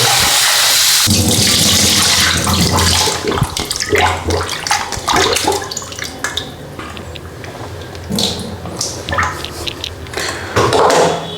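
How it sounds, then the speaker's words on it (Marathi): Food is washed under a running tap, with a loud, close gush of water splashing and churning steadily for about eleven seconds, its spatter shifting as the food is handled. "मी आता हे मस्तपैकी धुवून घेतो"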